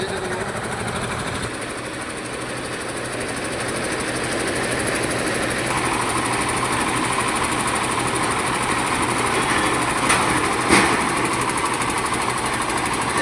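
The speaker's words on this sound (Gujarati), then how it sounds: "હવે છે ડીઝલ લેવામાં બરફનો કચરો ચાલુ થઈ ગયો બરફ લેવા માટે" A loud diesel ice crusher runs continuously nearby at a fishing harbour, a rough, rattling mechanical drone that grows slightly stronger, with a brief clunk near the end.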